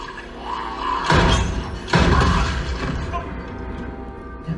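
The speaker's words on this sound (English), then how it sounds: "You shot your alcohol with your gun." In a screening of the film Zombieland: Double Tap, a gunshot shatters a bottle of alcohol. Two heavy booming impacts about a second apart ring out over a murmur of dialogue and room sound.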